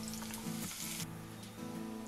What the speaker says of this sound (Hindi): प्याज को हल्का सा भूनेंगे।